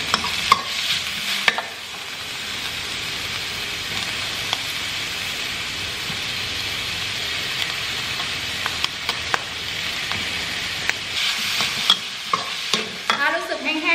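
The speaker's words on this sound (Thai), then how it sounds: "จะเอาตัวนี้ลงไปผัดก่อนนะคะ นี่อย่างดอกกระหล่ำนี้นะคะ อันไหนสุกยากเอาลงไปก่อนนะ" Broccoli and cauliflower florets are stir-fried in a pan of mixed vegetables, giving a loud, steady sizzle with clattering stirring and scraping strokes that grow busier near the end, no talking.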